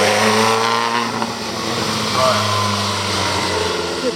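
Classic Bugatti Type 35 and Type 51 race cars climb Prescott Hill at a hill-climb event, one engine snarling and revving nearby with gear changes beneath a commentator's voice.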